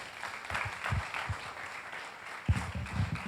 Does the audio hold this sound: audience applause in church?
yes